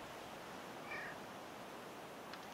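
A pet cat lets out one faint, brief meow for food against a hushed, hissy room background, followed by a tiny click.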